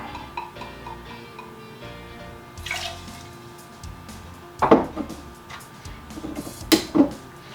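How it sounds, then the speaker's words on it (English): Two ounces of VS cognac go into a jigger while a Sidecar is mixed, heard as a faint trickle with a few soft splashes and light clinks in a quiet room, with no speech. "We're going to use a different jigger to toss in our 2 ounces of VS over here."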